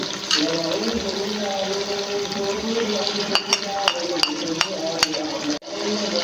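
Beef white karahi is stirred after yogurt is added. Soft, wet scraping and sizzling bubble steadily in the pan, with a few clinks of the spoon against the karahi and a brief drop in sound near the end.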